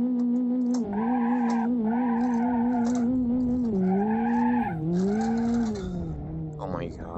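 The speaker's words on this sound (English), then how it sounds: "Let's do a burnout." A car doing a burnout in the BeamNG driving game, loud tire squeal and revving engine sustained as a steady pitched howl that rises and dips over several seconds, close and continuous throughout.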